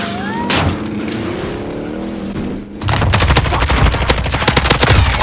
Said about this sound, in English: This guy shooting from behind me.